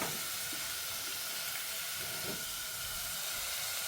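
Sliced onions sautéing in a pan for a mutton liver gravy, giving a steady, even sizzle and hiss that runs unbroken throughout, close but fairly soft, with no talking.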